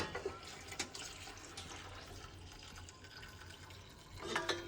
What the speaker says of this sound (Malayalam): ഇപ്പൊ വെള്ളം ഒഴിച്ചിട്ടുണ്ട് കേട്ടോ